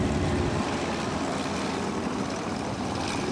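Cessna L-19 propeller aircraft running its engine at an airshow, a steady broad droning roar close by with no breaks, no voices over it.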